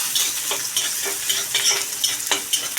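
Chicken sizzles and fries in hot tempering oil with tomato in a Marathi-style kharda chicken dish, a loud, steady crackle broken by regular scraping stirs of a spoon in the pan, with no voices.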